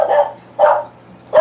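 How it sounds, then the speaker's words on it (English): A dog barks three times in evenly spaced, loud, close bursts, each short and full-bodied, with a steady low hum running underneath between barks. "My dog's a barker"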